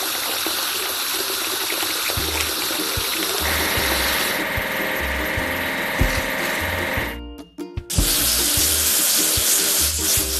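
Water gushes steadily to wash a toy earthmover, a loud running-tap splash with a brief break and clatter before the flow resumes.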